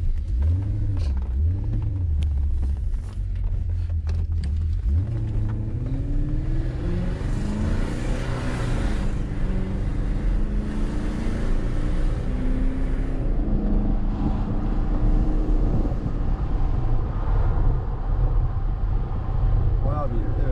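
A BMW 730i with a V8 engine runs with a steady low rumble throughout, close and constant, while people talk over it.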